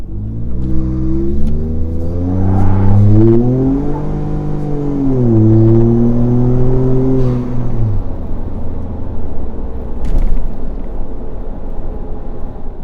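A tuned Ford F-150 pickup truck with a catback exhaust revs up and accelerates with a deep, throaty exhaust note, pitch climbing through two long pulls before easing off near the end.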